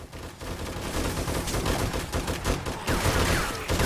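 Automatic turrets fire on oncoming zombies in 7 Days to Die, a loud, busy clatter of rapid overlapping shots that keeps going throughout with small dips in intensity, no talking over it.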